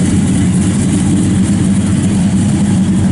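A 1968 Chevrolet Chevelle SS 396 with a 4-speed and 3-inch exhaust through Flowmaster mufflers idles close by, a loud, steady, deep rumbling burble with no break and no voices.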